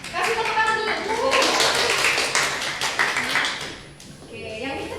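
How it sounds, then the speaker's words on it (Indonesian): A high school classroom claps for two students called to the front of a Japanese language lesson, with brisk clapping under voices and chatter that trails off briefly near the end. "Kasih tepuk tangan dulu."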